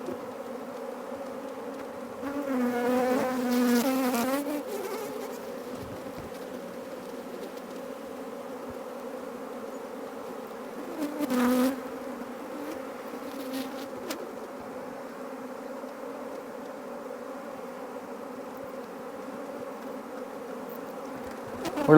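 Honeybees hum steadily in an opened hive, a low continuous drone close by, with a louder buzzing swell early on and another brief rise midway.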